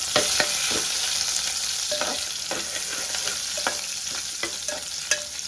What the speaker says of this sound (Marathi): कांदा ना फोडणीला थोडासा द्यायचा